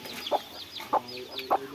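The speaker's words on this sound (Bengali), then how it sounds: "খাঁচা যে মুরগিগুলো আছে" Chickens kept in a cage, local desi crossbreeds with feathered legs, give soft, close clucks in three brief bursts spaced about half a second apart over quiet background.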